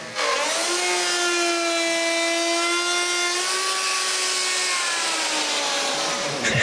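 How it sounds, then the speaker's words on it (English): A router with a pattern bit cuts wood for a kitchen cupboard, a loud sustained tonal whine that holds one pitch, dips slightly in the middle and runs without a break, close by and alone. "I finish the cut with a router and a pattern bit."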